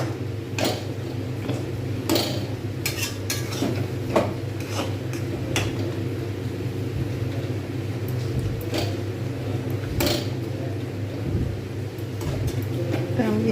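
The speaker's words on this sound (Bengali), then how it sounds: "এরকম করে কন্টিনিউ নাড়তে হবে যাতে তলায় না ধরে যায়" Fried rice being stirred continuously in a pan for rice laddu, giving a steady rumbling scrape with occasional sharper clinks of the spoon against the metal, close and constant.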